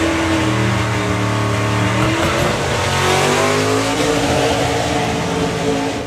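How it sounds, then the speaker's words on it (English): A stock Chevrolet COPO Camaro roars down a drag strip at full throttle, loud and close, its engine note climbing through gear changes with a faint tire squeal, alongside another racing engine. "A full-on factory stock legal Camaro in the UK."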